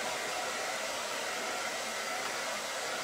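Hair dryer blowing steadily and fairly close on a decoupage craft piece, a continuous broadband whoosh that holds at an even level throughout, with no talking.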